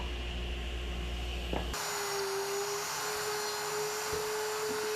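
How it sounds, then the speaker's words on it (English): Steady whine of a wood router cutting a stop dado, a continuous high-pitched drone that cuts off abruptly, leaving a quieter hum with a faint tone, heard up close. "I used my router to plow out a stop dado"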